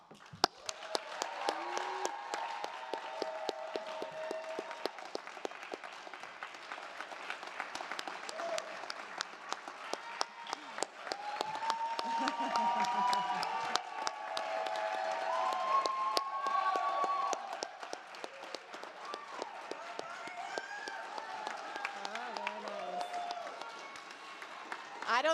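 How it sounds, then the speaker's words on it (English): Graduates and their audience at a 2022 USC drama school commencement clap long and hard, a sustained roar of hands with scattered cheers and voices mixed in, swelling and holding for over twenty seconds. "don't think they're going to stop clapping"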